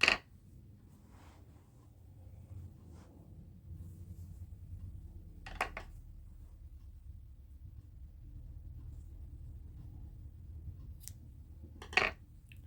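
Scissors cut yellow yarn in two sharp, brief snips several seconds apart, heard over a low steady room rumble with no talking.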